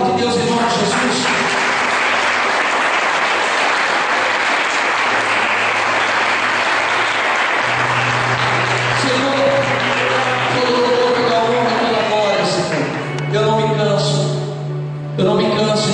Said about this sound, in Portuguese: Você pode aplaudir a palavra de Deus em nome de Jesus?